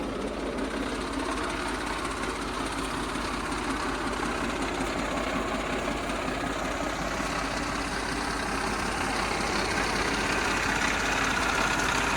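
A 2009 New Holland 3630 35 hp tractor idles in a steady, continuous low engine drone that stays even and close throughout, with no voices.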